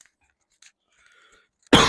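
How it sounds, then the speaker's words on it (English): One sudden harsh cough bursts out at the very end, loud and close, after near silence broken only by faint rustles. "I'm gonna try not to cough"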